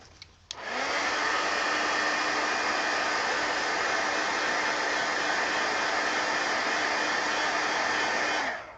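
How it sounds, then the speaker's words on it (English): A heat gun blowing steadily over colored paper, starting with a click and then a loud, continuous whooshing hum at close range for several seconds. "you let it dry or hit it with the heat gun, which that's what I'm going to do"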